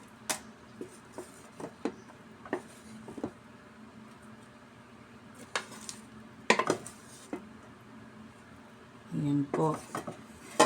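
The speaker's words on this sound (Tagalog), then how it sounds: "Dito talaga po tayo mapapalaban ng haluan sa this time na itong oras na ito na naglalagay na tayo ng ating malagkit na sinaing." Sticky rice (malagkit) for biko being stirred in a pan, with scattered clinks and scrapes of a utensil against the metal. Someone speaks briefly.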